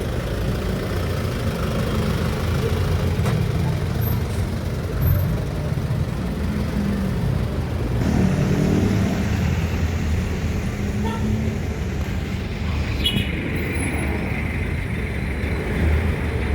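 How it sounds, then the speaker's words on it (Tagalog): Heavy road traffic in Baguio City, with engines idling and rumbling close by in a steady, continuous low drone of cars and buses that never lets up. "So tingnan nyo naman traffic"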